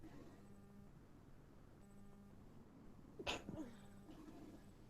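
A single sharp, loud sneeze bursts out just past the midpoint, with a brief rustle after it, over a low steady background hum.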